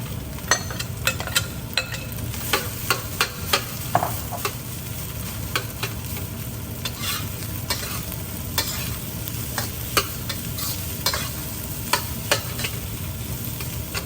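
Rice being stir-fried with sausage and onions for chicken fried rice, a steady sizzling hiss broken by frequent sharp spatula scrapes and clacks against the pan in an irregular rhythm, close and fairly loud, without talk.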